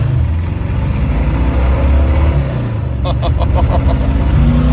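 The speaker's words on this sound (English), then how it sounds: "That sounds exactly like a Volkswagen air-cooled." A rough-running car engine, likened to an air-cooled Volkswagen, drones loud and close with a low uneven throb, and a burst of rhythmic knocking rises near the end.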